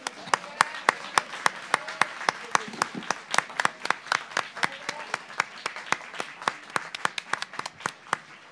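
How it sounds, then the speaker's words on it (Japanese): An audience applauds at the Street Fighter III 3rd Strike team tournament finals, Cooperation Cup 2019, with crisp, fairly sparse claps that keep a steady, near-rhythmic pattern throughout and faint talk underneath. "皆さん拍手お願いします"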